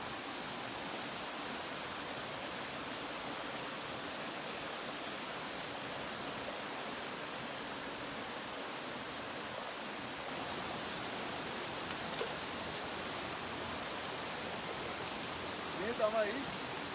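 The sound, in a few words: Narampanawa waterfall, water flowing over rock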